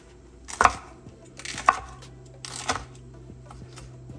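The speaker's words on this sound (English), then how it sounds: "let me chop one of the green" Three separate knife chops through a green Scotch bonnet pepper on a cutting board in a kitchen, evenly spaced, crisp and close, with a low background hum and no talking.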